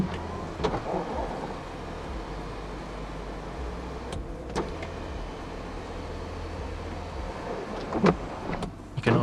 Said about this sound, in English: you can also open up the sunroof as a vent.